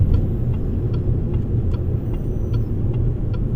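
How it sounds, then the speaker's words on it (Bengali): A car overtakes on a highway at speed, heard from inside a moving vehicle as a steady low road rumble and engine drone, with faint periodic ticking over it. "সে আমাকে ওভারটেক করবে এ দেখুন ওভারটেক করতেছে"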